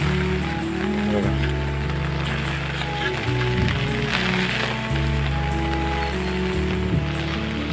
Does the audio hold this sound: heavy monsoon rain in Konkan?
yes